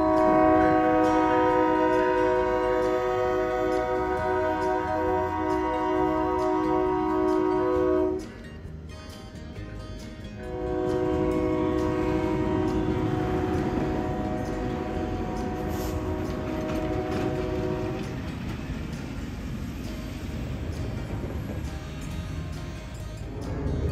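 Florida Central Railroad GP9 locomotives sound a long, loud train horn, held steady for several seconds with a brief gap, then sounding again as they approach the All-American Boulevard crossing over rumbling engines and rail noise.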